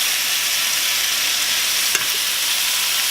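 Short ribs sear in a hot pan with a loud, steady, even hiss of fat sizzling close by, interrupted only by a single faint clink, with no talking.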